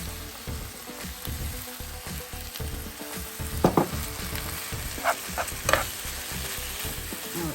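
Food browns and sizzles steadily in a cast iron skillet, with a continuous frying crackle and occasional stirring scrapes and clinks, no voices.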